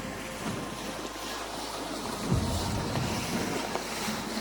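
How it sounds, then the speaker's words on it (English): Water sloshes and laps during a gondola ride on the Venice canals, with steady wind buffeting the microphone and a soft splash partway through. "What do you have to say about the gondola ride?"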